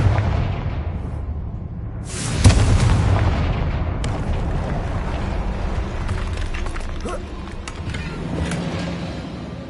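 A Confringo spell in Hogwarts Legacy bursts into a loud, booming explosion that rumbles and crackles before fading into a long tail of debris and fiery crackle, with the game's ambient sound underneath.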